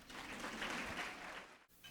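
A roomful of people applauds at a gala: dense steady clapping that swells and then cuts off abruptly near the end, with a brief burst resuming.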